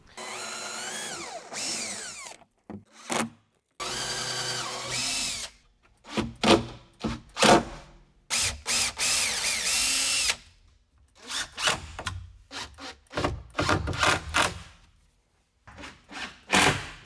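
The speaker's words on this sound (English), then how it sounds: "So I'm just gonna pre-drill some holes and put some screws in the side" A power drill pre-drills holes in wood while building a sideways sleeping bed in a van, with repeated loud whirring bursts and short pauses between them, plus some rubbing and handling of the boards.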